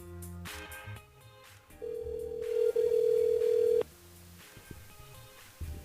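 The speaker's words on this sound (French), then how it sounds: "Marie, ah ben voilà, ça sonne" A telephone rings during a call-in segment of a radio show, a steady two-second electronic ring tone heard clearly over quiet studio background, with a faint line click just before it.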